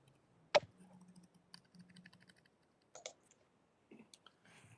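Keystrokes on a computer keyboard while selecting a spreadsheet cell range: a sharp click, then scattered light taps and a few later clicks, close but quiet, with no talking.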